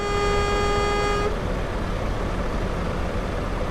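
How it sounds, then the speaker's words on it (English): A truck horn in a driving video game blares in one steady tone for over a second, then cuts off and leaves a continuous engine and road rumble. "If you don't stop honking, I'll turn my horns off."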